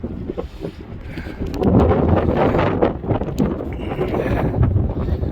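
Strong gusting wind buffets the microphone high on a gorge suspension bridge nearly 2,000 feet above the canyon floor, a loud rumbling roar that swells and surges unevenly.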